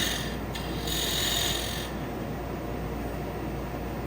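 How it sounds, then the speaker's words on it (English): A 1-inch square end scraper cuts wood on a lathe while turning a box, making a steady, even scraping hiss over the low whir of the spinning lathe throughout, with no talking. "Here I'm just using a 1-inch scraper to get a little bit more depth and also get that corner nice and crisp."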